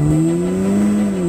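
A turbocharged 2.0 TFSI four-cylinder in an Audi S3 (221 kW, 300 hp) holds a steady, loud drone on a race track, a smooth sustained engine tone that rises slightly in pitch and then eases, with no talk over it.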